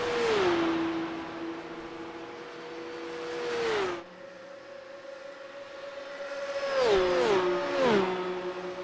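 Porsche 911 Cup (992.2) race cars at Le Mans in iRacing, engines wailing loud and close as they accelerate down the main straight, revs rising then dropping through several sharp upshifts, with a second car's engine layered in near the end.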